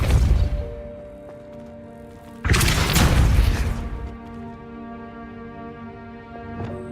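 In the video game Hogwarts Legacy, the Depulso force spell fires as a sudden loud booming blast that rolls on for over a second before fading, following a quieter rumbling opening.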